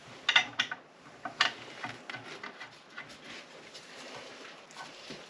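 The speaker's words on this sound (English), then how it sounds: "Just going to screw the nuts on a tiny bit." Nuts are threaded onto the exhaust studs of a Yamaha VX110 during restoration. Light metallic clicks and ratcheting ticks come close by, sharper at first and then quieter and more irregular, with no speech.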